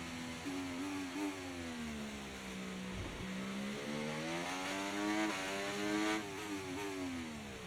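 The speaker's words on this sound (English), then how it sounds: "There's quite a few cars out on track right now" Racing cars from an F1 video game drone steadily with revving engine tones that rise and fall, several cars passing on track at moderate distance and fairly quiet overall.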